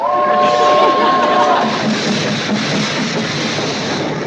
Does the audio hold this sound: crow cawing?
no